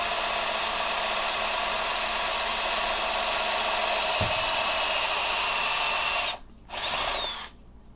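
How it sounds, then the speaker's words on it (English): A power drill with a step drill bit whines steadily at high speed, briefly dipping near the end before spinning up again, loud and close. "I'm going to drill using a uni-bit"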